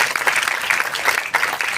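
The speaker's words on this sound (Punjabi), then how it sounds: "ਮੈਂ ਚਾਹੁੰਦਾ ਕਿ ਤੁਸੀਂ ਗੂੰਜਦੀਆਂ ਤਾੜੀਆਂ ਦੇ ਨਾਲ ਉਹਨਾਂ ਦਾ ਇਸਤਕਬਾਲ ਕਰੋ" Loud, sustained applause from an audience welcoming Sardar KJ Singh, a dense steady clapping with no pauses.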